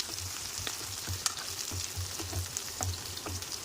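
Onions with curry leaves and mint frying in a pan for a potato yogurt masala curry, a steady close hiss of sizzling with soft stirring scrapes throughout, no voices.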